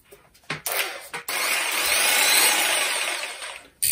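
A DCA AMQ65 electric jigsaw is switched on in two brief bursts, then runs freely with a loud, steady high-pitched motor whine and rattling blade for a few seconds before stopping, heard up close and alone.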